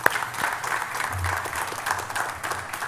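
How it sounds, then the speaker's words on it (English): An audience claps at a professorial inaugural lecture at the University of the West Indies. The applause is steady, moderately loud and lasts a few seconds. "I'll give him a round of applause for that."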